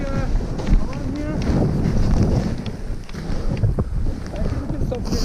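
Strong wind buffets the microphone with a steady roar and gusts on an exposed mountain ridge during a March blizzard on the Vallée Blanche, with faint voices under the noise.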